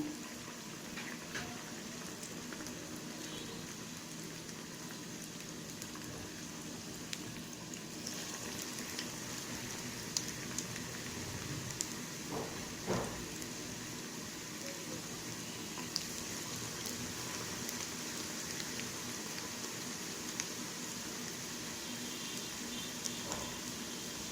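Onion bonda, a tea-stall style gram-flour fritter, deep-frying in hot oil on a low flame, a steady soft sizzle and bubbling that runs unbroken throughout with a few faint clicks and knocks from the pan.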